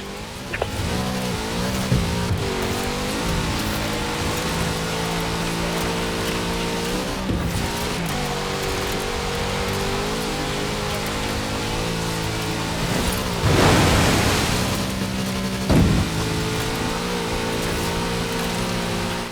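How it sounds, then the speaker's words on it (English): A big Chevrolet engine roars steadily in the Forza Horizon 4 racing game, with loud sustained revving that rises and falls as gears shift and a brief burst of tire noise near the end. "Such power in the big Chevrolet engine."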